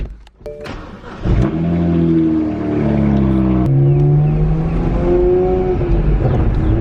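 A Nissan SR20DET car engine starts with a sharp crank, then revs up loudly and settles into a throaty, rising and falling roar close by.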